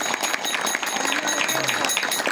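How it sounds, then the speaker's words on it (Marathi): An audience claps together at a gathering, a dense, steady patter of many hands filling the room without pause. "त्यांच्या या कृतीबद्दल आपण सगळ्यांनी टाळ्या वाजून कौतुक केलं पाहिजे"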